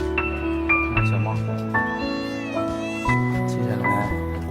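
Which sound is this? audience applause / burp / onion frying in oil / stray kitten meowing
stray kitten meowing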